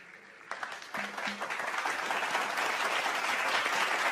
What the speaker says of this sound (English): Please welcome with an applause as he speaks on the human side of artificial intelligence, Ashraf Zaki.